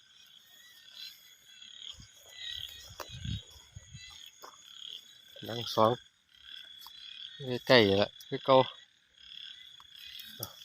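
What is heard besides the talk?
frogs croaking at night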